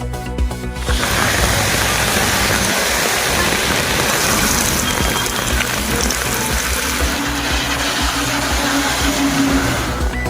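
Heavy rain pours down in Chennai amid strong winds, a dense, steady roar with no break, loud and close throughout.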